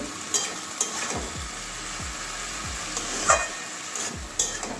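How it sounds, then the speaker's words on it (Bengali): Malabar spinach (pui shak) being stirred with spices in a pan, giving repeated scraping strokes over a low steady sizzle, close and moderately loud, with no voices. "ভালো করে মিশিয়ে নেব মশলার সঙ্গে শাকটা"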